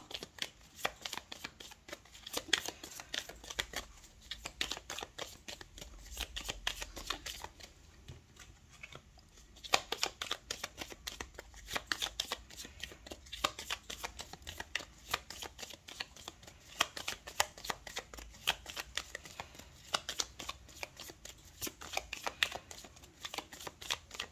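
Tarot cards are shuffled close up and quietly, with a long, continuous stream of soft papery riffles and flicks in a brisk, uneven rhythm and no voices.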